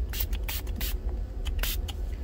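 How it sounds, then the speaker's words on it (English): Water spritzed from a spray bottle onto leather, several quick hissing bursts in a loose cluster, close and moderately loud over a low background hum. "So that's one layer of spritzing."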